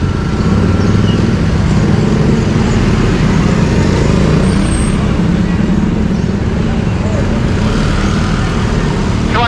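Dense road traffic with cars, buses and trucks rumbles continuously, loud and close, with a steady roar of engines and tires throughout; a voice can be heard faintly under the noise.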